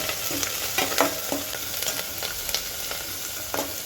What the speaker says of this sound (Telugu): కొత్తిమీర పుదీనా కరివేపాకు కొంచెం వేసుకొని ఫ్రై చేసుకోవాలి